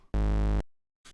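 A distorted hardstyle kick synthesized in Serum hits once, loud and sustained with a dense buzzing tone for about half a second, followed after a pause by a faint short tail.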